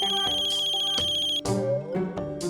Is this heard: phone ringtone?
yes